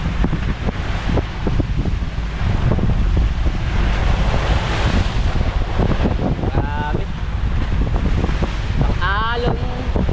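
Strong sea waves churn beside a stranded, broken wooden fishing boat, a loud continuous roar of surf and wind buffeting close to the microphone, with a couple of brief voice sounds near the end.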